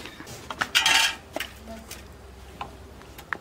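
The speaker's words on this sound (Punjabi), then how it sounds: "ਭਾਂਡੇ ਚੱਕਣਾ" Dishes and cutlery clink sharply as they are picked up in a home kitchen, a few scattered close knocks and rattles over a quiet room.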